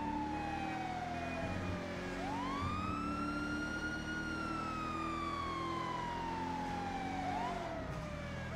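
Police car siren in the video game Police World wails continuously and loudly, sweeping up and down in long glides over a steady engine drone, with no talking.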